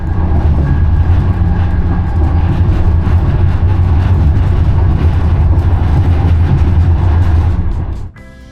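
Loud, continuous rumble of a German high-speed train running at speed, with broadband hiss and rattling throughout, fading abruptly near the end.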